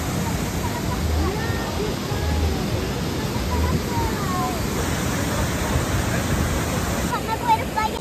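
The El Meco waterfall in San Luis Potosí, Mexico, roars as a loud, steady broadband rush of falling water, with faint voices under it.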